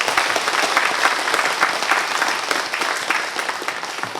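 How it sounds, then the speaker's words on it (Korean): A church congregation claps steadily during a Sunday service, dense applause that holds at an even level throughout. "우리 박수로 다 같이 격려해 주시죠"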